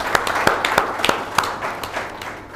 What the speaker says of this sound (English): I think you guys need to give yourself a round of applause